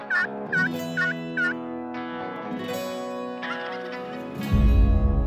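A wild turkey gobbler in New Mexico gobbles four times in quick succession, loud and clear in open air. A longer rolling call follows, then a low rumble at the end.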